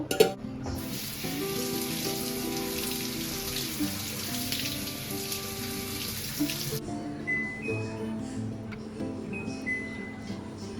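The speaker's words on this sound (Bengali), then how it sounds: "আলুগুলো ফার্স্ট ভেজে নেব" Potatoes frying in hot oil in a large kadai while cooking dum biryani in a home kitchen: a loud, steady sizzle begins almost at once and holds for about six seconds, then cuts off, leaving softer clinks and kitchen sounds.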